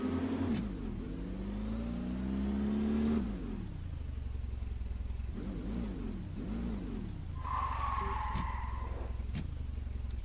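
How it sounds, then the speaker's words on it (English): A family SUV accelerates hard up to 40 mph ahead of a brake test, its mid-pitched engine revving and climbing through gear changes, loud and close with a steady road roar underneath. "So we're going to do our usual 40 miles per hour"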